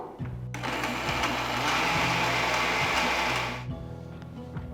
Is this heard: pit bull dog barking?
no